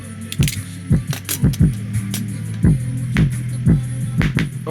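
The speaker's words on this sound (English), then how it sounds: "it's already bottoming out" A high-end Sony loudspeaker with a tiny voice coil, driven hard during a repair test, bottoms out in repeated rhythmic thumps and rattling slaps over a steady low hum, loud and close.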